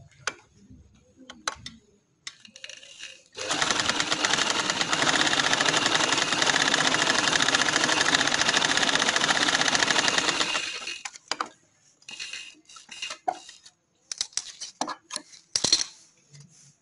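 An electric sewing machine runs a continuous stitching burst of about seven seconds on kameez fabric for a winter casual design, close and steady, framed by quieter ticks and handling clicks before and after.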